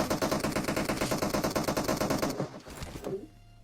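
Rapid automatic gunfire in PUBG Mobile rattles in a fast steady burst for over two seconds, then stops, leaving a short tail of softer thuds and quiet.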